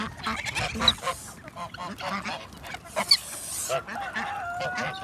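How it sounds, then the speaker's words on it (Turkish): Ducks quack and honk in bursts close by, with busy splashing and dabbling noises between calls as they feed. "Ördekler bu şekilde yemeyi seviyor."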